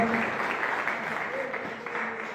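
A church congregation applauds during a worship service, a dense, steady wash of clapping that runs throughout with faint voices mixed in.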